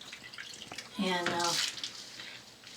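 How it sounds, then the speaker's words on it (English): Warm water splashes and trickles in buckets while a baby is washed, soft and close, with a brief voice rising over the sloshing midway. "I have 2 buckets with warm water here."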